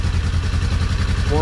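A 2003 Yamaha Big Bear ATV engine chugs in a fast, even, pulsing throb, loud and close, with a voice briefly cutting in at the end.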